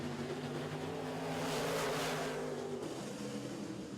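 A pack of Midwest Modified race cars roars off at the green flag on a short oval, engines blending into a loud, steady drone that swells as the field passes and then eases slightly.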